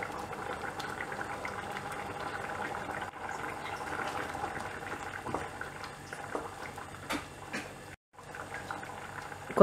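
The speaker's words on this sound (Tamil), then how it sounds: "தண்ணி ஊத்திட்டு இந்த குழம்பு நல்லா கொதிக்க வைக்கணும்." Spicy mochai kara kuzhambu, a field bean curry with added water, boils in a pot on the stove. Soft, continuous bubbling and popping stays quiet and close throughout.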